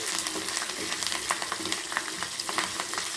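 Hot tempering poured into mango pulissery curry, a dense crackling sizzle with rapid popping bursts throughout, close and alone.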